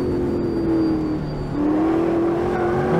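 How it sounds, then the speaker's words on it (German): A race car engine in the Automobilista 2 racing game drones steadily at high revs, its tone briefly dipping and then rising again, with a hollow reflected echo as it passes a wall. "diese Trompeten-Hallreflexion, die da von der Mauer kommt"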